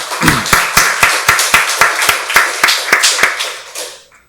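Church congregation clapping during a Sunday worship service, a crisp, rhythmic run of about fifteen loud unison claps that slow slightly and fade out at the end.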